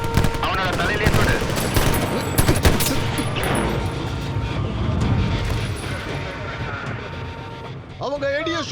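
Gunfire in a Tamil-dubbed S.W.A.T. bank heist shootout, loud sustained bursts of machine-gun and rifle fire with sirens and vehicle noise, dense and close, while voices shout under the barrage.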